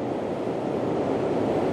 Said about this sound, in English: Let's see if this wave hits that rock good.